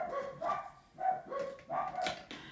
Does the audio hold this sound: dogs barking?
yes